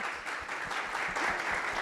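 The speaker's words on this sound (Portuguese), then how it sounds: "eu acho que todos nós merecemos uma salva de palmas" Audience at a marketing conference breaking into sustained applause, many hands clapping together in a dense, even roar that holds steady throughout.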